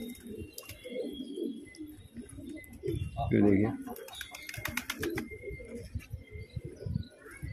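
Pigeons coo softly on a rooftop where grain is scattered, faint low calls mixed with someone talking nearby and some outdoor background noise.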